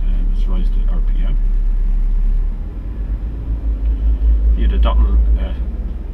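A car engine idling after warm-up is revved up, its deep rumble swelling and pulsing louder partway through as the RPM climbs, with voices talking over it.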